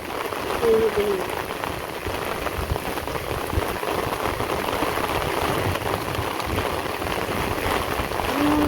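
Heavy rain drums steadily on surfaces in a dense, continuous hiss with wind, close and loud throughout, while faint voices come through briefly at the start and end.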